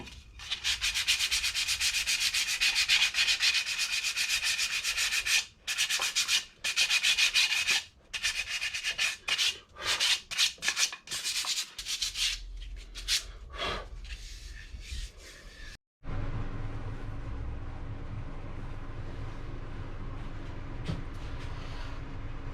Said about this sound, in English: give it a final sand with some 120 and 240 grit sandpaper and try and get some of these burn marks off from the router